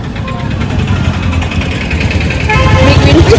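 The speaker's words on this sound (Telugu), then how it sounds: "చాలా ట్రాఫిక్ ఉంది ఇక్కడంతా." Town street traffic on a hot, sunny day, with a continuous close rumble of idling and passing engines from cars and motorbikes that swells slightly toward the end, while voices murmur faintly underneath.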